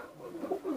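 A pigeon in a loft coos softly in a short, low, rolling phrase that rises twice toward the end, fairly close and quiet, with no one talking.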